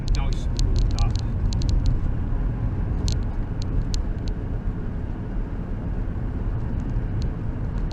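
A 1962 Morris Minor engine runs steadily as it warms up and drives, a low continuous rumble with light clicks and rattles, voices talking over it.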